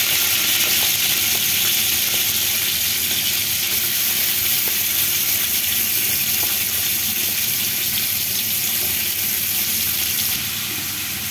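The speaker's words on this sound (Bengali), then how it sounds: "দারচিনি, এলাচি, দিয়ে দিলাম কুচি করে কাটা পেঁয়াজ," Chopped onions fry with cinnamon and cardamom in a pan, a loud, continuous close-up sizzle with steady hiss and crackle throughout, no voices.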